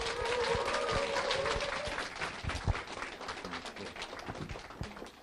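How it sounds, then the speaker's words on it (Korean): An audience at a company business event claps steadily to welcome the CEO on stage, a dense, fairly distant wash of applause with individual claps popping out, lasting the whole stretch and slowly thinning. "큰 박수로 환영해 주시면 감사하겠습니다"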